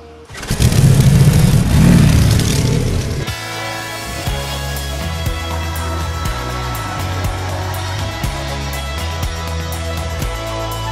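Honda Rebel 1100 motorcycle out on the road: a loud engine surge and rumble at first, then a steady mid-pitched engine drone under music-like tonal layers, with repeated sharp ticks through the rest.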